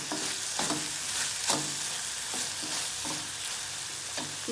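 Manchurian sauce stirred in a pan for idli Manchurian, a quiet steady sizzle broken by regular scraping strokes of the spoon, close up.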